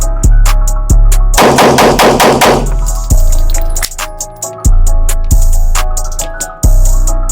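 Rapid pistol fire from a Canik MC9 and similar compact handguns at an outdoor shooting range: loud sharp shots, a few spaced single reports and a fast burst of closely packed rounds, ringing with echo and no talking.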